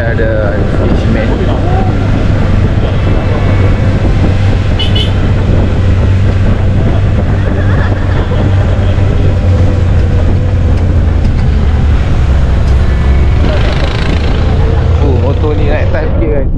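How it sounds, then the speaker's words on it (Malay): A loud, steady motorbike engine drone runs throughout with a strong low hum, straining slightly as it climbs a hill, with wind noise and faint voices mixed in. "Motor ni naik atas sikit guys."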